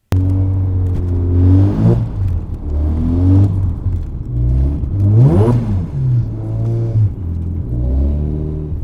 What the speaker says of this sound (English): We're just going to do a wide open throttle acceleration run and log that.